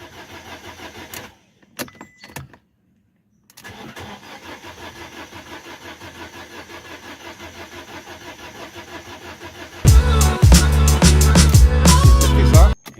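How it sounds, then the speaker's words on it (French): Fiat 500 engine cranking without firing, a no-start fault with cylinder misfire: faint grinding and clicks first, then a loud, rhythmic starter churn of the engine turning over near the end without catching. "Comme vous avez vu, la voiture ne démarre pas."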